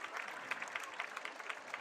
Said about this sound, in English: Nick Barnes, he gets a nice round of applause from the Homewood faithful,